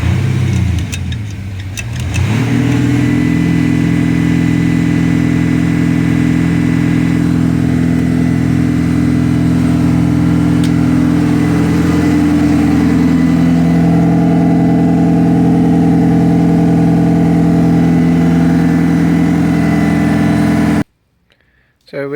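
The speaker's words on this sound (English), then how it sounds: "start the vehicle up and give it a good rev out" An Audi A6 engine runs steadily with exhaust collector tanks fitted during a DPF cleaning, settling from an early dip into a constant loud drone with strong low harmonics, then cutting off abruptly near the end.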